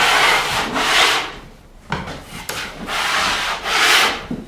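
A trowel scraping joint compound into the depressions over drywall screw heads, repeated rhythmic rasping strokes, close and clear with a brief pause between passes, no talk.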